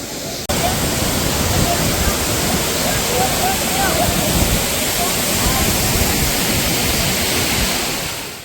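A steady, loud roar of falling water fills the whole clip, dense and unbroken, like standing close to a powerful waterfall: Savdav waterfall in Kankavali, India.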